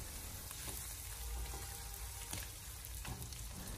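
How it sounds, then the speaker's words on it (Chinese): Potato slices stir-fry with Pixian doubanjiang over low heat in a wok, giving a steady soft sizzle with occasional faint scrapes of stirring, close but quiet. "再继续的小火翻炒一下，将它翻炒均匀，给它炒出香味"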